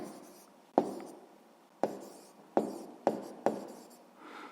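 Handwriting with pen or chalk lands in five distinct tapping strokes, each trailing into a soft scratch, close and fairly loud with quiet gaps between, noting an answer to a math problem.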